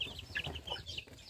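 Chickens cluck softly in a barnyard where yellow chicks with white tails are kept, a few short, faint calls heard alone.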